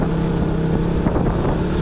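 Motorcycle riding on a road route in Bandung, Indonesia, heard as a loud, steady rush of wind buffeting the microphone over a low engine drone, continuous with no talk.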